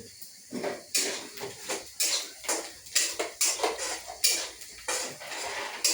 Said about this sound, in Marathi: असं जरा कांदा मस्त असं व्यवस्थित जरा परतून घ्या बघा मित्रांनो